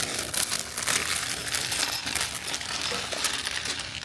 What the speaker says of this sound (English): As we cut open the box for this year's Winter Village set, inside you will find plastic bags